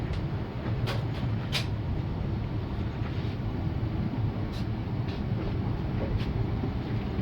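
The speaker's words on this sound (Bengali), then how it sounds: "বোলপুর থেকে ট্রেন ছেড়ে দিয়েছে" The Gour Express, a Malda Town to Sealdah train, runs at night after leaving Bolpur, giving a continuous loud rumbling roar from inside the coach with occasional faint clicks and rattles.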